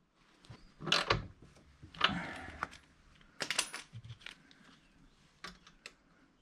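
A torque wrench tightening a motorcycle chain setup gives several sharp metallic clicks and clanks in irregular bursts, close and fairly quiet, with no voices.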